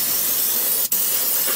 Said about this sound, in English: I just go and I spray it right in there.